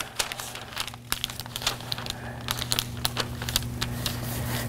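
A paper sewing pattern is folded along the dart legs, making close, crisp crinkles and rustles with scattered sharp crackles throughout and no voices.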